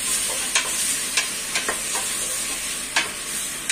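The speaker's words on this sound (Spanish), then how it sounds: "vamos a empezar a sellar" Beef sears in a pot for a Chilean pumpkin and beef stew, a loud, dense sizzle with sharp scraping strokes of a wooden spoon at irregular intervals.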